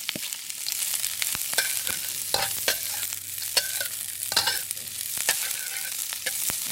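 Crab meat stir-fried in a hot wok with green onion, bean sprouts and pepper, a steady close sizzle broken by frequent sharp scrapes and clacks of the stirring utensil, with no voices.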